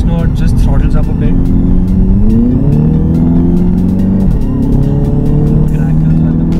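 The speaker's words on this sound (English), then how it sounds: "And the exhaust note just throttles up a bit." An Audi TT Coupe in dynamic mode on the Pune-Mumbai Express Highway, its exhaust note climbing in pitch as the engine pulls, loud and continuous from inside the car, with a voice talking over it.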